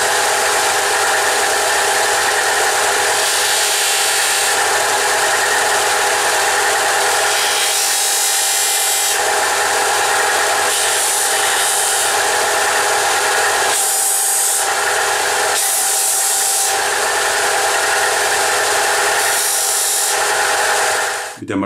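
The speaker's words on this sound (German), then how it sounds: "Als nächstes werde ich die Kanten brechen bei dem Teil. Das mache ich mit diesem Auflageteller." A BTS 800 combination belt and disc sander runs steadily while a workpiece's edges are broken against its disc, a continuous loud machine whir with rubbing grind that shifts slightly in texture as the part is pressed on.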